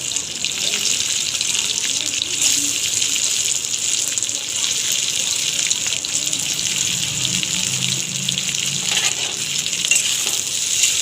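Chopped onions fry in a pan with whole cumin, giving a steady, loud, unbroken sizzling hiss that lasts the whole stretch, with faint stirring underneath.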